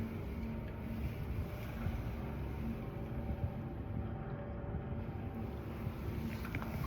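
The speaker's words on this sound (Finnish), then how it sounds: "täällä tietysti tuuli humisee aika lujaa" Wind howls steadily with a low, continuous roar and gusty buffeting at the top of a spiral staircase in Suomenlinna church, no voices present.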